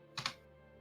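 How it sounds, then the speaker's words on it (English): Two quick keystrokes on a computer keyboard, faint and close, during a live-streamed game, with a quiet background before and after. "Oh, I'm typing in the wrong chat."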